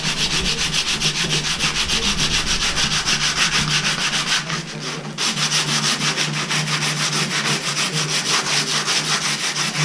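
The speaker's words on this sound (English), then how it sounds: "I just sand it out." Rapid rhythmic scratching of sandpaper rubbing out a bubble in boat fairing, loud and close, with a brief pause midway before resuming.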